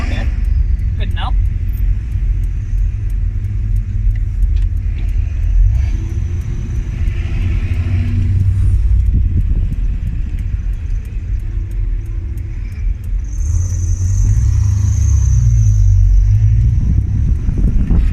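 Interior view of a 1981 Ford Mustang cruising a street, its engine giving a steady, loud low rumble that swells in places, with passing traffic outside.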